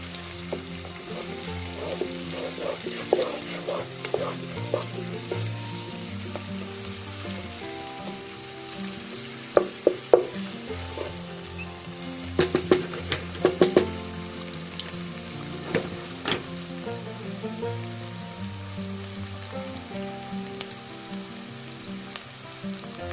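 Yogurt chicken, dahi chicken, cooking in a pan on medium heat with a steady low sizzle and bubbling, plus a few sharp clinks and scrapes from stirring, close and moderately loud, no talking.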